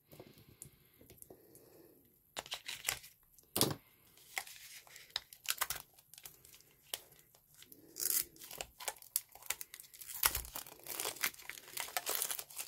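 Crinkling plastic packaging and sharp snips of scissors cutting, in irregular bursts with brief pauses, close up and fairly quiet.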